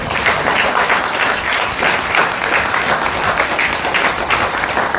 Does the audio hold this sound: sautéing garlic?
no